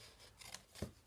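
Scissors cutting up the sides of a paper K-Cup bag, two or three faint, close snips and rustles in an otherwise quiet room.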